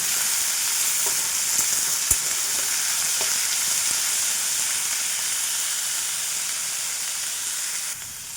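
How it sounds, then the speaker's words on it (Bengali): Banana blossom and potatoes fry in a pan with a steady close sizzle and hiss, broken by a few faint clinks of stirring. "আলুটা ভেজে নিলাম, এবার মোচাটা দিয়ে দেবো। মোচাটা দিয়েও ভাজবো।"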